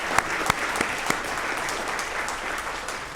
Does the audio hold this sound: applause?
yes